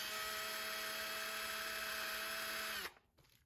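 A cordless drill whines at high speed, loud and steady, then cuts off abruptly near the end, while working on a Traxxas TRX4M RC truck.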